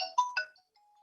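A phone ringtone sounds as a quick, bright electronic burst of three chiming notes, then trails off into a faint lingering tone during a lecture-room meeting.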